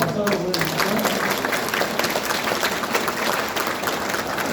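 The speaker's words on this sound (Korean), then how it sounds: "박수 한번 보내주시죠." Audience applause at a lecture hall talk, dense steady clapping from a crowd that fills the whole stretch, fairly loud and even, with a brief voice at the very start.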